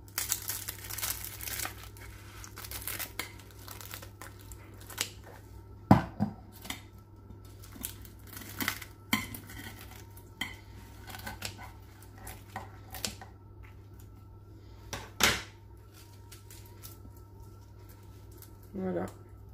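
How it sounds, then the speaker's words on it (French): A knife cuts through flaky, layered mhencha pastry made from msemen dough, giving dry crinkling and crackling sounds in short bursts and scattered snaps under a steady background hum. "on entend bien le bruit du feuilletage"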